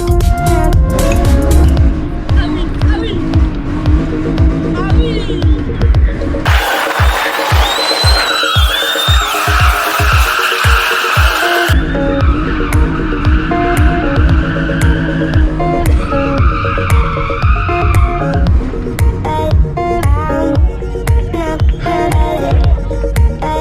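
A drift car revs hard while its tires squeal and skid through a slide in the middle stretch, loud and close, with engine roar and rumble before and after.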